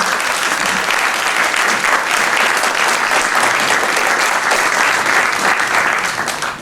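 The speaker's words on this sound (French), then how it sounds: "Donc on va applaudir et vous remercier encore une fois" A large audience at a charity gala applauds in a dense, sustained wash of clapping, steady and loud throughout before easing slightly at the very end.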